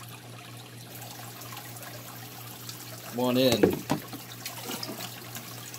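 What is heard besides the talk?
water being poured back into a tank during a water change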